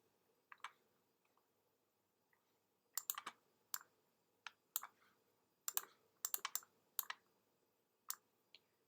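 Computer mouse clicks while shaping a box in Adobe InDesign: sharp, faint, close clicks in scattered single and double bursts, irregularly spaced, over a quiet room with no voices.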